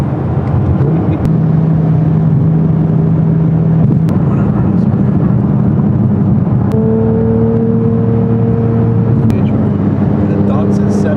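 A DDE McLaren 720S supercar engine rumbles steadily and loudly close by, with a sustained droning hum and shifting tonal whine, while people talk over it.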